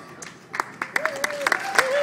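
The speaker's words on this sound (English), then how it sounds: "We can applaud." A scattering of hand claps breaks out as a small group at a wedding gathering starts applauding, with voices talking over it.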